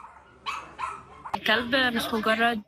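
Dogs at a dog cafe in Cairo barking, a couple of sharp yips followed by a burst of rapid, loud, close barks with a whining tone.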